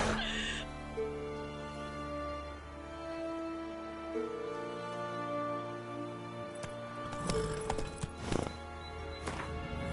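Roach, a horse in a video game, trots with rhythmic clip-clop hoofbeats under steady background game music, with a few sharper thuds toward the end.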